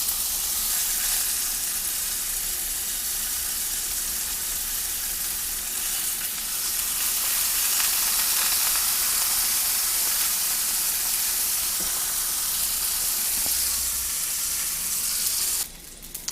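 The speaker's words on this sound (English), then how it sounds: "We're going to sear off some of the fat on the lamb chop" Lamb chop fat searing in a hot oiled pan gives a steady, loud frying sizzle and hiss that runs unbroken with no talk, ending in a brief clatter.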